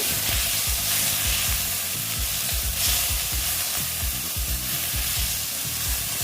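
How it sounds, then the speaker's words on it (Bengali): Onions fry in hot oil with a loud, dense, steady sizzle and crackle that fills the whole stretch, with no talking over it. "পেঁয়াজটা আমি ভালো মতন ভেজে নেবো"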